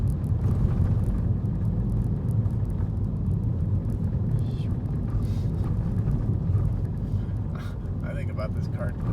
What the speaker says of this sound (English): There's a lot of road noise on this one.